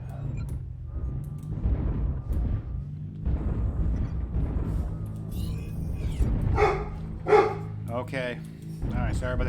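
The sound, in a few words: dog barking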